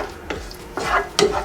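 A spoon stirs a croquette mixture of pepper and salt in a pan with the heat off, making three distinct scraping, sloshing strokes about half a second apart, close and fairly loud.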